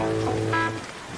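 Steady rain pours in a horror video game scene, a dense even hiss that fades slightly near the end, with no talk over it.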